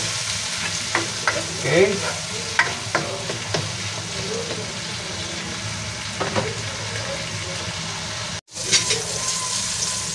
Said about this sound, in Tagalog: ligis-ligisa lang po natin yung ating kamatis hanggang sa maluto ng todo at lumabas yung kanyang katas